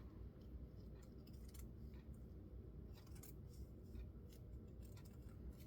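Small scissors trim lace on a vintage linen journal page, making faint, close, crisp snips spaced out over several seconds against a quiet room hush.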